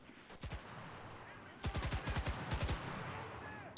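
Lanchester submachine gun fired in the video game Enlisted: a brief burst of rapid shots, then a longer rattling automatic burst of about a dozen cracks, loud and close, with low background noise.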